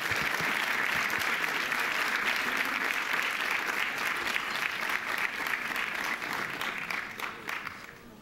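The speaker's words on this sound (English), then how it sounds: "Let's give Nicole another round of applause." Audience applause at an evening civic forum on city biking in Atlanta: dense, steady clapping from a large crowd that holds strong for about seven seconds, then thins and fades toward the end.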